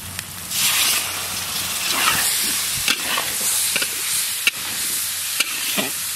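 Dry red chillies, cumin and turmeric fry with sautéed onion, ginger and garlic in a pan. A steady loud sizzle runs throughout, and a utensil stirs and taps against the pan in occasional sharp clicks.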